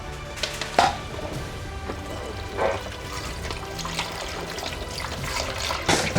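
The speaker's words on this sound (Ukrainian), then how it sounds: "Зараз нальємо води." Water poured into a cat drinking fountain with a 1.5-litre reservoir, a light splashing pour with a few clinks and knocks of handling the plastic container, close and moderately quiet, no talking.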